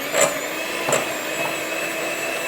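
Peanut butter and brown Swerve sweetener are mixed together to a steady, close whirring drone, with two brief louder bumps near the start and no speech.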